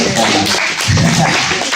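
An audience at a Wednesday youth night service claps for a young preacher, a dense burst of applause filling the short stretch, loud and close, with voices blended in.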